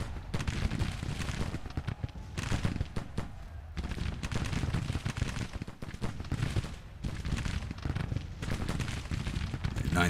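Soldiers in the Civil War strategy game Grand Tactician fire their personal weapons, producing a continuous rattling fusillade of dense overlapping musket shots with brief lulls, loud and close.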